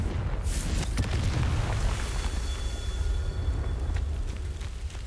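A Confringo fire-blast spell going off in the video game Hogwarts Legacy: a heavy, booming explosion with sharp bursts up front, then a rumbling, crackling tail that stays loud to the end.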